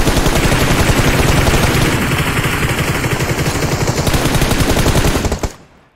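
Automatic gunfire in PUBG Mobile: loud, close, sustained rapid-fire bursts roll on continuously for over five seconds before cutting off abruptly into near silence.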